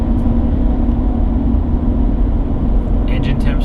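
A Ford F250 pickup engine running at a steady idle, a loud continuous low rumble close by with no break, and a brief clatter near the end.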